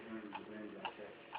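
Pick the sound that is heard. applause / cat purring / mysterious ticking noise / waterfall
mysterious ticking noise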